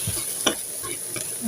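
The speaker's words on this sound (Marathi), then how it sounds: "पूर्ण परतून घेऊया." Spices and vegetables being stir-fried in a pan, a soft ongoing sizzle broken by a few quick scraping stirs of the spoon, close and fairly loud.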